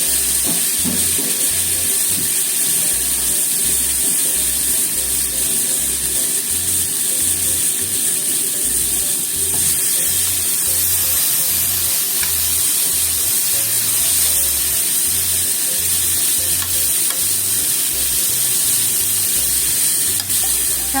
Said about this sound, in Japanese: 中火でちょっと炒めますね。